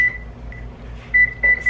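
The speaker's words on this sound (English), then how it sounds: "set the oven to 425" An oven control panel beeping as it is set to 425: a near, sustained electronic tone, then a short blip and two more longer beeps close together, clear and alone.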